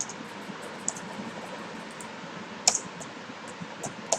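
Computer keyboard typing: a handful of light, sparse key clicks over a steady hiss of background noise, with a small cluster of quicker taps near the middle and a couple more at the end.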